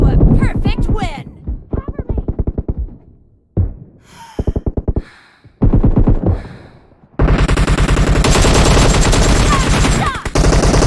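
Golden machine gun in PUBG Mobile: a voice and short game sounds come first, then sustained, loud automatic fire fills the last few seconds.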